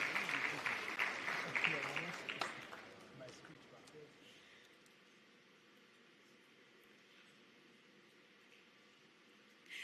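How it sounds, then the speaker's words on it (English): An audience at the Afreximbank annual meetings in Abuja, Nigeria gives a warm round of applause, loud and dense for about two seconds before fading into a quiet hall hum, with a faint thump at the end. "Please join me in expressing once again our sincere appreciation with a warm round of applause."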